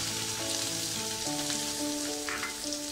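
Chopped small onions and green chillies fry in a pan for a leafy thoran, giving a steady, close, unbroken sizzle throughout.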